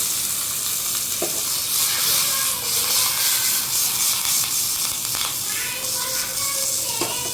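Curry leaves, onion and three green chilies sizzle steadily in hot oil for a sambar tempering, a close, dense crackling hiss with occasional brief pops and stirring scrapes throughout.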